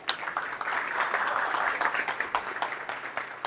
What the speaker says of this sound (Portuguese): Recebam com uma salva de palmas Ramon Ruiz.